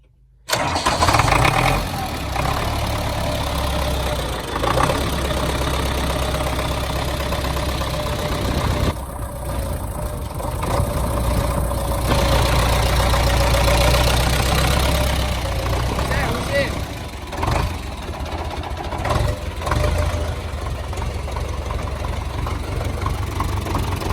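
A heavy diesel MTZ tractor engine cranks and catches, then settles into a loud, steady idle that chugs on for the rest of the clip, with voices briefly heard.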